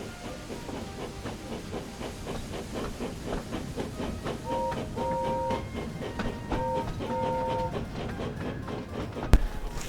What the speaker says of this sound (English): Let's hear that lovely whistle sound and departure sound.